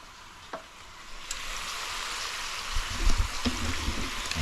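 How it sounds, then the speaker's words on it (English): Curried oxtails sear on high heat in a pan, a close, steady hissing sizzle that builds, with a few spitting pops and low bumps of the meat being moved, no voices. "So we're searing right now on high."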